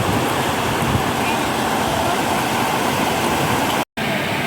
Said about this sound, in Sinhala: මේ තමයි ගින්ගඟේ අතු ගංගාවක්.